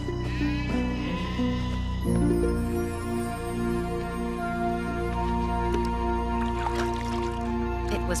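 Cartoon sheep bleating in a wavering, nasal cry near the start, followed by softer, muffled animated sound effects and faint background music.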